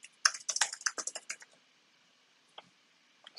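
A quick burst of clicky computer keyboard typing entering a command, close and dry, then a pause and a couple of isolated keystrokes.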